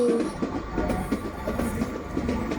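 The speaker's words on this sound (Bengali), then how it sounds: "ওই যে চট্টগ্রাম অভিমুখী লোকাল ট্রেন, ওই যে দেখতে পাইছো?" A local train bound for Chittagong passes close by in Bangladesh, its steady rumble and repeated clickety-clack of wheels holding for the whole short stretch with no voices over it.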